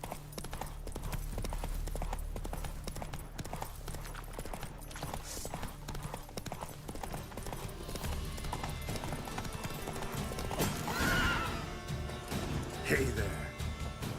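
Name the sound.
horse Roach's hooves clip-clopping in the video game The Witcher 3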